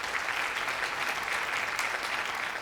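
An audience at a school quiz competition in Mumbai gives the participating teams a round of applause, a steady, even wash of clapping from many hands that lasts the whole moment.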